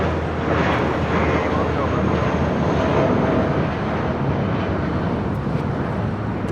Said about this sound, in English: JetBlue Airways Flight 880. It's an 18-year-old A320.